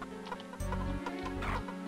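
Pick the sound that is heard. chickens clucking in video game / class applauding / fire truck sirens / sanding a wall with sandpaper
chickens clucking in video game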